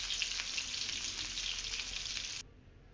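Onions fry in hot oil until crisp, a steady close broadband sizzle lasting a couple of seconds before dropping abruptly to a low background hum.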